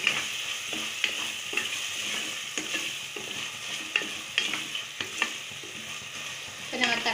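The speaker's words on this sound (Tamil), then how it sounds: "இப்போ நம்ம தக்காளி நல்லா வதங்கிடுச்சு" Tomatoes sautéing in a pan for vegetable biryani, a steady close sizzle broken by repeated scraping stirs and clinks of the spoon, with no talking.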